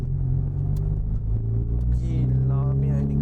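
Small 1.3cc car engine fitted with a 3-inch exhaust revs in sport mode, a deep throbbing exhaust rumble that rises toward the end, with someone talking over it.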